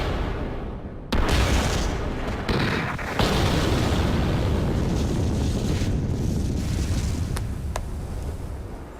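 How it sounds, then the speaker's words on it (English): An explosion at a lake: a sudden loud boom hits, followed by a second blast and a long rumbling, roaring wash of debris and water that slowly fades. "This is one of the loveliest shots of an explosion I think that we have ever gotten."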